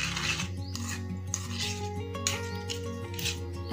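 Yogurt chutney with crushed peanuts being mixed in a bowl with a spoon, soft scraping and clinking of utensil against the bowl under a steady background hum and tonal drone.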